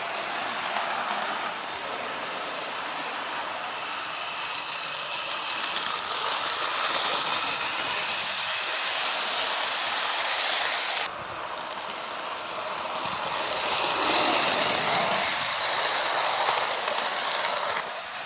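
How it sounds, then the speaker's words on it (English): A Lego model train, a British Rail Intercity 125 set, runs continuously with a steady mechanical whir and rattling clatter, close and fairly loud, shifting in tone partway through. "Oh, I've got a big train running."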